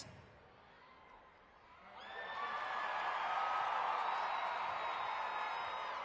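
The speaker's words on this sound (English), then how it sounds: "The crowd here rewarding the effort from Devin Winfield, going for that backflip" Monster Jam arena crowd in Las Vegas swelling into loud cheering and whooping after a truck's backflip attempt, starting as a low murmur and rising after two seconds into a sustained, distant roar.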